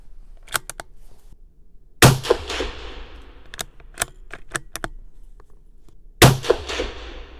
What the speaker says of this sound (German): Also geben wir jetzt noch 2 weitere Schüsse ab